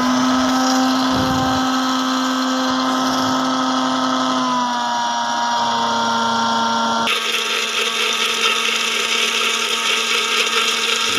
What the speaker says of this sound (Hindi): नमक, सिरका और अब इसको ग्राइंड करना शुरू करें।